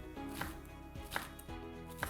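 A knife dices an onion on a cutting board in three evenly spaced taps, close and fairly soft, over steady background music.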